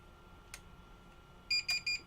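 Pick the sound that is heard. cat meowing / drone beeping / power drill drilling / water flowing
drone beeping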